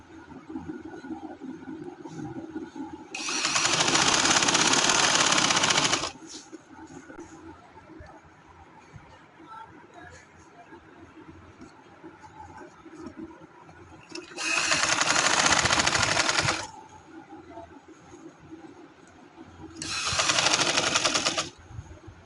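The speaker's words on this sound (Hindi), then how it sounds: "इधर डबल सिलाई लगाऊंगी" A sewing machine stitching cloth for a salwar, running in three loud, steady bursts of rapid mechanical whirring separated by quieter pauses with faint handling noise.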